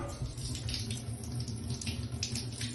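Water drains steadily from a valve on a Terma AquaSlim 80 heated towel radiator after the hot and cold hoses are disconnected, a continuous close splashing trickle with no pauses and no voices.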